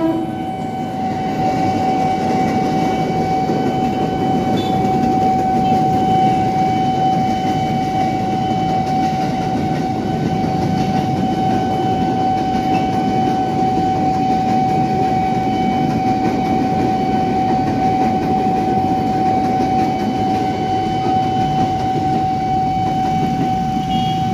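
A KRL commuter electric train rolls past a level crossing with a loud, sustained rumble while the crossing's warning tone keeps ringing steadily underneath throughout.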